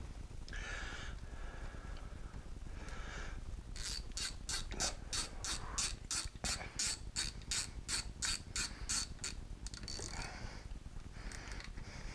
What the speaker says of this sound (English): I'm going to put this other bolt in also.